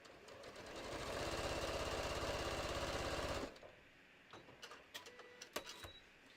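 A serger sewing fabric for a bucket hat runs in a fast, loud mechanical whir for about three seconds, then stops, leaving light clicks and handling noises.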